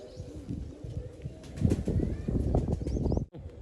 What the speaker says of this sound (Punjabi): ਆਹ ਆਪਣੀ ਵੱਡੀ ਕੂਤਰੀ ਪਿਓਰ ਬਾਬੇ ਟਹਿਲ ਵਾਲੇ ਕੂਤਰਾਂ ਦੇ ਵਿੱਚੋਂ ਜੀ ਚੈੱਕ ਕਰ ਲਓ